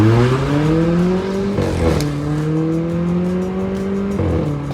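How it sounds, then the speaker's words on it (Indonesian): Loud VW Polo engine with a near straight-pipe exhaust, revving up through gears in a rising tonal drone with shift dips, close and steady throughout. "Jadi knalpotnya Wipol itu gue ngerasa terlalu cempreng."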